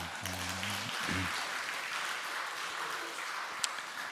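A congregation at a New Year Sunday church service claps, a soft, diffuse patter of hands under a voice that speaks briefly at the start.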